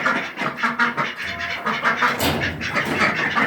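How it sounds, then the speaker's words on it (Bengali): Peking ducks at feeding time on a farm, a busy flock giving rough, overlapping quacks and squawks close by, continuous for a few seconds with no talk. "এই হচ্ছে আমাদের হাঁস, বেজিং হাঁস।"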